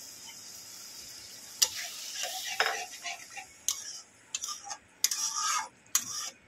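Water poured into hot, sizzling masala in a pan while making doi bhindi with yogurt and okra, giving bursts of hissing sizzle between sharp clinks of a bowl and spoon against the pan.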